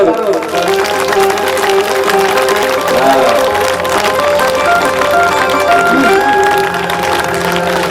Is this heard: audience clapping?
yes